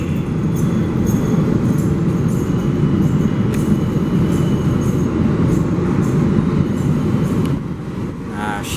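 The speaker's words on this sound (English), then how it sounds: "There is a train approaching the station." A Z subway train at a station platform, its steady loud rumble of wheels on rail filling the whole span, with faint tone-like squeals and a slight drop in level near the end.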